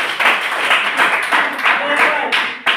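Classmates clap in a classroom, a short burst of uneven hand claps mixed with voices talking over them, close and moderately loud for a few seconds.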